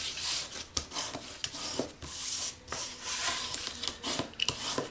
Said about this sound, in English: Now let's fold and burnish.